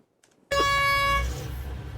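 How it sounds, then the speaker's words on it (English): A loud, sustained air horn blast starts abruptly after a brief quiet moment, ringing with a harsh tonal blare and then fading into a lingering rumble. "an air horn"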